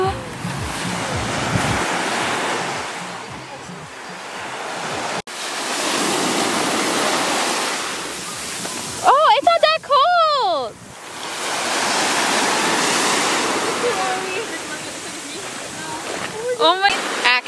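Ocean waves break and wash up on a beach at Orange Beach, Alabama, in steady loud surges with wind noise on the microphone, while people talk over the surf in the middle and at the end.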